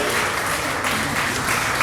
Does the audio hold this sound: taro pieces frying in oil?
no